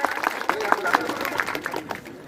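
Applause at an outdoor gathering about the Hasdeo forest, with a crowd clapping in uneven, moderately loud bursts while people talk over it throughout.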